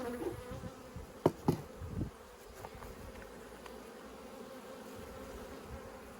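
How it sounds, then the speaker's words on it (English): Honey bees drone around an open hive during a beekeeping frame inspection, a steady buzzing hum close by with a few louder knocks and bumps of frames early on. "You can see there's a good number of bees."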